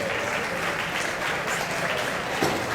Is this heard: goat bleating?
no